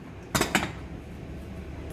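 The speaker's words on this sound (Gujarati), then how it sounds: "હવે આપણે આ ઢાંકણ બંધ કરીને આને બાફવા મૂકી દઈશું" A metal lid meets a pot of dal with two quick clinks close together, then a single clink near the end, set against a quiet kitchen background.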